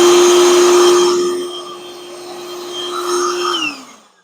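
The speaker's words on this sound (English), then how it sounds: "And now you've got a blower that you can actually blow off around your tools on your workbench." A Ryobi P3240 wet/dry project vac running as a blower gives a loud, close, steady whine with a constant motor tone, which drops in pitch as the motor winds down at the end.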